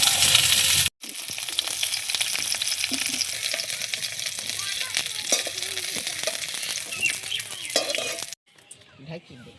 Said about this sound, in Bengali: আলু আর ফুলকপিটা খুব সুন্দর ভাজা হয়ে গেছে, এবার তুলে নিই।